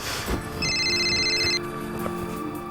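A telephone rings indoors in a home during a Hindi TV crime drama, a bright electronic trill lasting about a second, with faint background sounds before and after.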